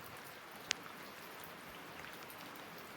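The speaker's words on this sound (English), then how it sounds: "That rain on that tin roof will get you every time, won't it, girl?" Rain falls on a tin roof, a faint, even patter spread across the whole stretch with one brief sharp tick, no talking.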